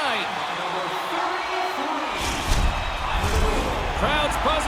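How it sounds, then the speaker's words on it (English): An arena crowd in NHL 23 hums with a steady, loud murmur of many voices, swelling slightly with a few cheers and whoops near the end of a hockey game between Detroit and Chicago. "Crowd's buzzing, ready to get things back underway"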